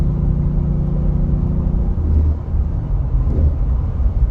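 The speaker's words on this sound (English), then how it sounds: "here comes the car" A car goes past on the road, heard from inside a moving vehicle as a steady low rumble and whir that swells briefly mid-clip, with no talking.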